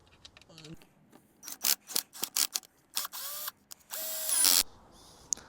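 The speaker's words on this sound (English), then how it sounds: "Okay, time to screw the bolts back in." Bolts being screwed back into a crashed Mercedes CLA during a rebuild: short, close bursts of a power tool whirring and clicking, with brief rising whines between quieter gaps.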